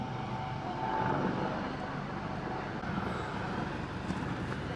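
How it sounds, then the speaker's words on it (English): A military helicopter flying over a yole boat race, a continuous rumbling aircraft drone, moderately loud and steady, with broadband noise and no clear rotor beat standing out. "And we've got a military helicopter there."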